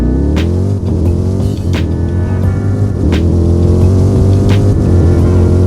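A Noble M600 engine in a racing video game roars loudly and continuously, its pitch climbing steadily with brief dips at gear changes, close and with no talk over it.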